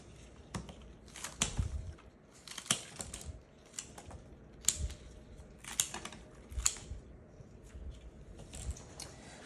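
Flower stems for a homecoming bouquet are snipped in a run of crisp, close clicking cuts that come in irregular bursts, with soft rustling between them and no talking.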